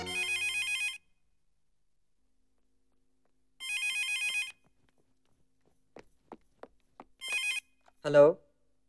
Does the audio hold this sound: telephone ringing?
yes